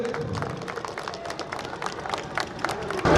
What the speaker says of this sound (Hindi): कृपया तालियों से उनका स्वागत करें